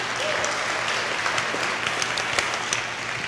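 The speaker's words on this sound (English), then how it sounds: "Yes, it is worthy of applause." An audience claps steadily at a Progressive Democrats of America event in 2008, a dense, even patter of hands with a few sharper claps standing out, sustained throughout.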